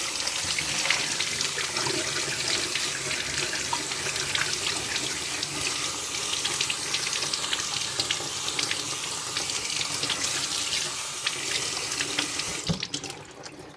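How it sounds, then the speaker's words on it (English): Tap water runs steadily into a sink, rinsing a piece of cured bacon meat, a continuous close splashing rush that holds at an even level and then cuts off abruptly near the end. "now that we've washed our meat off"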